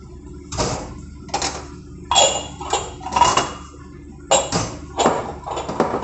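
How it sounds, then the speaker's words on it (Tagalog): Plates being wiped and set back in place in a home kitchen, producing a series of close, sharp ceramic clinks and clatters in irregular bursts separated by short pauses. "magpupunas na naman ako para ibalik yung mga plato"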